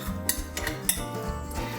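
Faint metal spoon clinks and scrapes against a jar of honey, a few light taps and scoops in quick succession.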